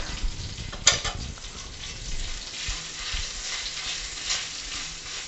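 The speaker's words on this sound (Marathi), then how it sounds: "ही पेस्ट अशा पद्धतीने तेलामध्ये परतून घ्यायची आहे।" Spice paste sizzles steadily while being sautéed in hot oil with a pinch of asafoetida and turmeric for a Marathi stuffed pomfret fry. There is a sharper clink near the start, and no one speaks.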